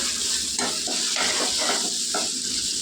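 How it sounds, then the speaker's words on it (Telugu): Two beaten eggs fry in a pan for veg fried rice, giving a steady close sizzle with several stirring strokes. No one speaks. "చూడండి, గుడ్డు కూడా వేగిపోయిందండి"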